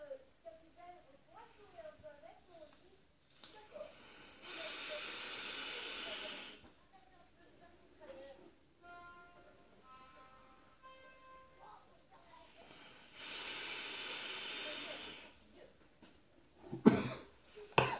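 Vapour is exhaled from a CLT-V3 e-cigarette atomizer, producing two long, steady hissing breaths several seconds apart, with quiet speech and coughing between them.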